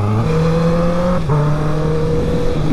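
A Honda CB650R motorcycle upshifts with its OEM quickshifter, the engine note holding steady and loud before a brief clean dip at the gear change, then pulling on again at a lower pitch.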